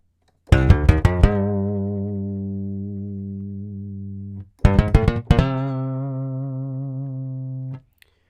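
The Session Bassist Jam Bass virtual bass plays two phrases, each a quick run of plucked notes that ends on a long sustained tone with a fast wavering modulation. It is clean and close, with a short gap between the phrases and no talking.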